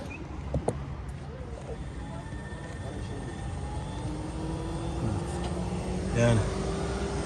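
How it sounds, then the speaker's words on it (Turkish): A steady car air-conditioning fan whir runs continuously inside a TOGG car cabin, with low mechanical hum, a faint rising whine and a brief thump near the end. "Şu anda klimanın fanı çalışıyor. Onun sesi geliyor."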